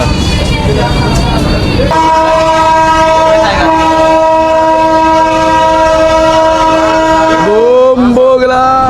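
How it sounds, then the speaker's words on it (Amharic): A loud, sustained train horn blares over the rumble of a train moving on rails near Dire Dawa, then bends and shifts in pitch near the end. "ባቡሩ እየሄደ ነው"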